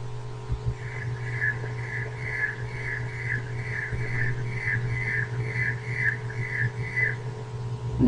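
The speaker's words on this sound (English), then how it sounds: "If you listen closely, you can actually hear the tegmen going back and forth." Insect wing stridulation, the tegmen rubbing back and forth, slowed to 15% speed: a long, evenly spaced train of pulsing rasps running for most of the clip over a steady low hum.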